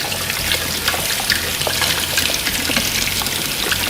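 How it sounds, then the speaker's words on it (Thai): Tap water runs and splashes steadily in a sink while ripe Nam Dok Mai mangoes are scrubbed by gloved hands, a loud close continuous gush with small irregular splashes. "วิธีการของผมก็คือเปิดน้ำสวมถุงมือ แล้วก็ขัดนะครับ"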